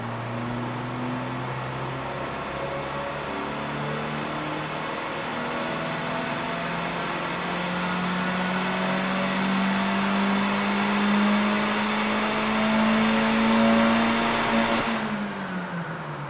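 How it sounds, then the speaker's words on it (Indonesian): A steady stock engine drone from a City hatchback hums on, climbing slightly in pitch and loudness before dropping off abruptly near the end. "Ngilu ya dengar suara mesinnya. Padahal ini masih mesin standar nih."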